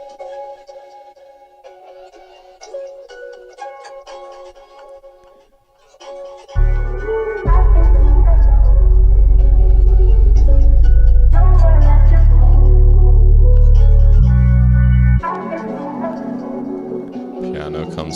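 RnB music sample processed with granular glitch, delay, EQ and a Portal four-shape pan, starting sparse and choppy, then swelling into a loud, full, rhythmically chopped passage with deep sustained bass before easing back.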